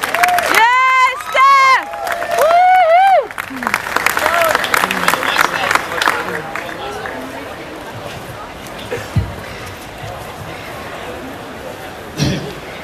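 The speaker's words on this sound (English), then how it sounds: "Keep clapping. She's just there." A crowd at a Melbourne 420 rally cheers with high whoops, then breaks into loud, dense clapping that gradually thins and fades while someone talks over it.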